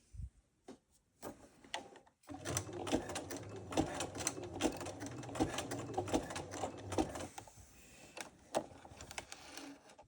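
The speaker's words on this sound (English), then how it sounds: "I suggest you backstitch there to take it off the machine" A sewing machine backstitches sash cord while sewing a rope bowl, giving a few soft taps and then a steady, fairly quiet mechanical chatter for about five seconds before trailing off into lighter clicks.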